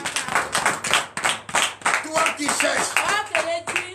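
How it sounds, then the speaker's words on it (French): Rhythmic hand clapping keeps a steady beat, loud and close, at a morning church prayer service in Benin, while singing or talk carries over it throughout. "Donnez l'acclamation à Jésus."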